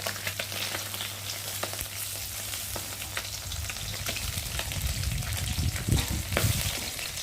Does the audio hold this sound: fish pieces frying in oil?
yes